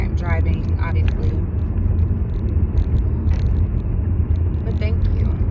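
Steady low road rumble and engine drone fill a moving car's cabin from inside, continuous throughout, with a voice speaking over it.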